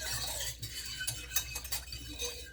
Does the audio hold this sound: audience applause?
no